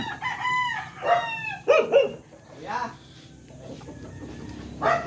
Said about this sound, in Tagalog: Ang dami palang manok ng tatay mo.